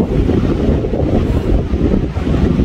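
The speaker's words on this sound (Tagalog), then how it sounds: "Pero ang lakas ng hangin." Strong wind buffets the microphone on the summit of Mt Timbak in Luzon, a loud, continuous low roar with gusty swells and no talk.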